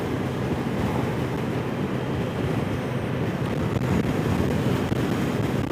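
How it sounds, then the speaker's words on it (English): Steady roaring wind buffeting the microphone on a 2021 Kawasaki Z H2 SE motorcycle at about 58 mph, a dense broadband rush with a faint engine hum underneath, continuous and loud throughout. "I hear just the wind, really"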